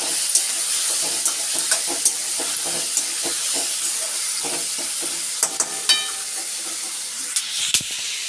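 Dosa batter sizzling and frying on a hot pan in a home kitchen with tomato and peanut chutneys, a steady hiss with occasional sharp clinks and taps of utensils, close and continuous.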